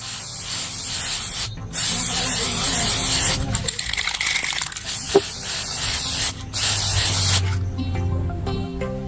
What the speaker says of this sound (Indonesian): nanti bisa kita semprot dengan menggunakan clear coat